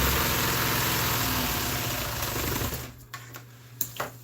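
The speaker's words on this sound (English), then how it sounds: "I just need to sew it like that right there" A sewing machine stitches RV seat upholstery with a fast, steady mechanical whir for about three seconds, then stops, leaving a low hum and a few sharp clicks nearby.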